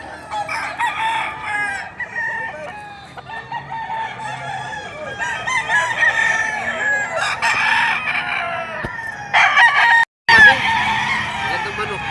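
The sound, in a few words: chickens and roosters crowing at a poultry market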